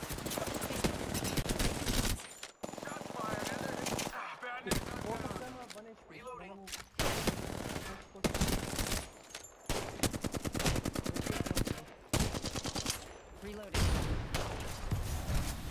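Rapid automatic gunfire from Apex Legends comes in repeated bursts of sharp cracks, close and loud, broken by short pauses, with a voice speaking between the volleys.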